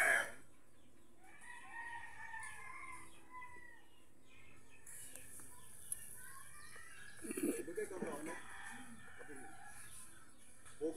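Chickens cluck and a rooster crows intermittently in a farmyard, moderately near, with people talking faintly in the background and a brief burst of louder activity late on.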